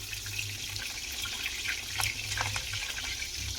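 Water pours steadily, a continuous splashing trickle like a tap running into a vessel, close by over a low background hum during outdoor cooking of a chicken feast.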